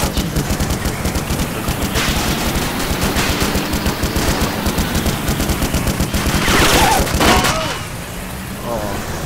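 Sustained automatic and single-shot gunfire in the ArmA 2 military game, dense rapid bursts running throughout with a louder flurry near the end, under voices talking.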